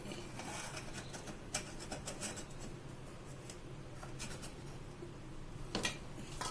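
Vanilla sponge cake being loosened around its edges in a baking tin, giving a close, continuous soft scraping and rubbing with a few sharper scrapes along the way.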